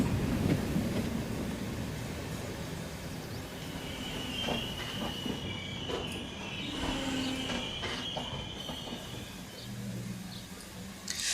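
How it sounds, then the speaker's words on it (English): A diesel train in the Indian Railways Train Simulator game pulls away from platform number 2 at Charali, a steady rumble of rolling wheels and engine with faint squeals and clatter continuing throughout, with no talk. "So finally our train just started at Charali at platform number 2."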